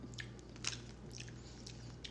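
Close, quiet crunching and chewing of a crisp, sweet, sticky snack, with a few sharp bites over a faint steady hum.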